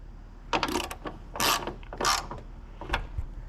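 Short ratchet clicks while a fitting is tightened on a front light install on a 2024 Ford Ranger Raptor, a few separate brief bursts, close and moderately loud over a quiet background.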